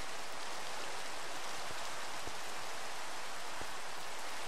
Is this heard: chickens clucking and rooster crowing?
no